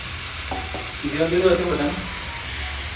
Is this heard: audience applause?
no